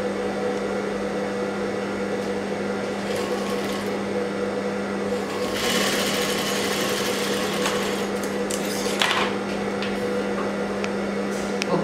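Sewing machine running steadily while stitching tucks and piping onto a prince-cut blouse, a continuous close mechanical hum with a brief louder burst near the middle, no talking.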